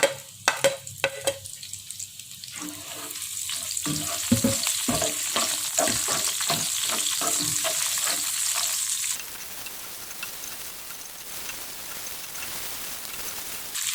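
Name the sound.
onions being sautéed in vegetable oil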